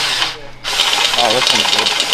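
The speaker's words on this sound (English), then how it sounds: "We're gonna try that other unibit." A unibit step drill bit bores through stainless steel in a short, loud, high whine that briefly dips before resuming, with steady grinding texture throughout.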